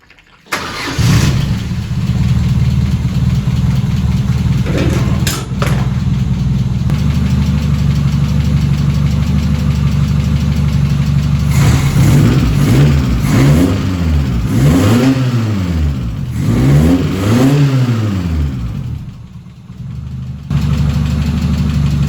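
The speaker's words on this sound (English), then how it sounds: "So that's the engine" A 1300cc stockcar engine cranks and catches, then idles steadily before several loud rising-and-falling revs near the end, heard close up with no talking.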